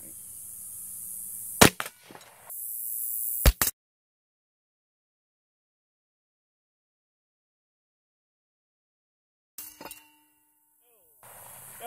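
A 12 gauge rubber slug fired at a glass target in front of a mirror gives two sharp loud cracks with ringing impacts, then a long silence before a faint clink and talk.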